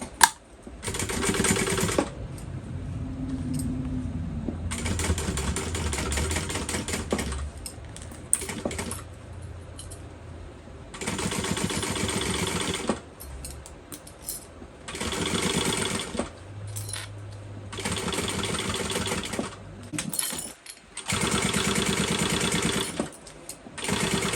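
A sewing machine stitches a seam on a fold-over crossbody bag in several loud sustained bursts, separated by short pauses, with no talking.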